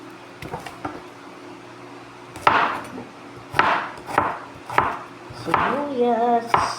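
Onions being chopped with a knife on a board while cooking pinakbet at home, a few sharp, separated chops with quiet gaps between them and a low background hum.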